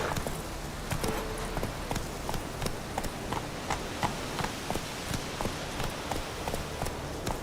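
Roach the horse gallops in The Witcher 3 video game, with fast rhythmic hoofbeats thudding steadily over a constant background of ambient game sound.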